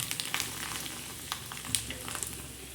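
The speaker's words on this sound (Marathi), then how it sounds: "हे नागलीचे पापड असे कमी तेलात तळायचे हे बघा" Ragi papad fries in a little oil with a soft, steady sizzle close by, broken by scattered sharp crackles and pops, and nobody speaks.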